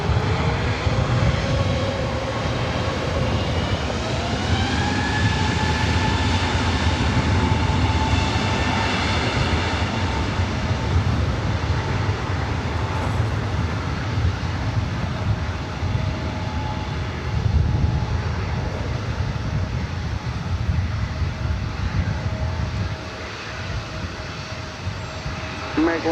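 A jet airliner takes off from runway 24 right at LAX, its engines a loud, steady roar with a rising whine that holds throughout, close by and continuous, with faint radio chatter underneath.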